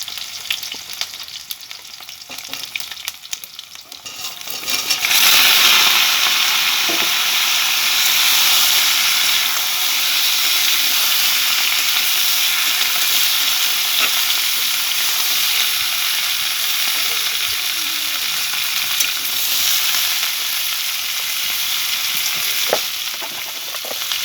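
Cut potato and raw green banana fry in a pan of hot oil seasoned with five-spice seeds, a loud continuous sizzle that starts abruptly and holds steady, close up with no voices.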